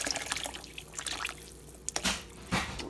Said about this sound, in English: I think I'm gonna add a little bit more broth back into it from what I saved.